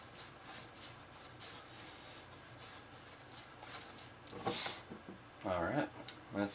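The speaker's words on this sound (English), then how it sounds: "I'm just going to smear the powders all over the place" Weathering powder is rubbed onto an RC4wd D110 model truck in rhythmic, close brushing strokes. The rubbing is quiet, and a voice briefly breaks in near the end.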